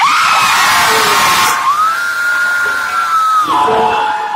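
Concert crowd at a live show in Delhi screaming and shrieking together, loud and sustained, with a high-pitched whistle-like tone held across the middle.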